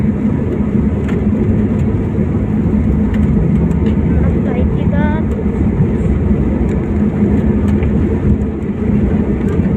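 Airliner taking off from Kochi International Airport bound for Dubai, a loud, continuous engine roar heard from inside the cabin, steady and heavy throughout with a brief whine rising partway through.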